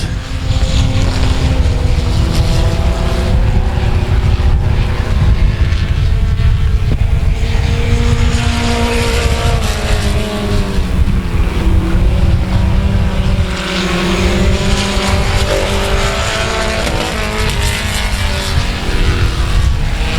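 Race cars lap South Texas Speedway, a loud, dense roar of several engines blending with wind and crowd-like noise, rising and falling steadily throughout with no clear pause.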